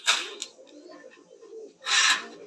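Fancy pigeons in a loft at a Sakhipur, Tangail farm give soft, low cooing, broken by two short bursts of brisk rustling or wing-flapping near the start and end.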